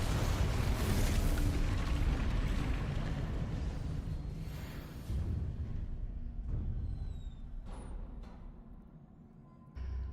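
A Confringo blasting spell explodes in Hogwarts Legacy: a loud, deep, rumbling blast sustains for several seconds, then fades into scattered crackles and debris sounds before a sharp burst at the end.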